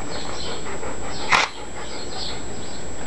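Four-week-old miniature retriever puppies whimper and yip in a soft, continuous chorus, with one brief louder bump partway through.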